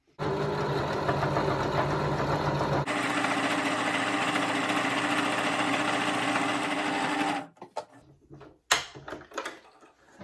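Sewing machine stitching two quilting fabric squares together, a steady continuous motor whir and needle clatter for about seven seconds, then stopping into a few soft handling clicks and rustles.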